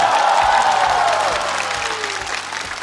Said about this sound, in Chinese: 再次让我们用热烈的掌声感谢一直陪伴我们的客户们